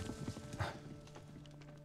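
A few quick hoofbeats clop at the start in the game Above Snakes, followed by a short neigh-like burst, then a quiet electronic hum remains.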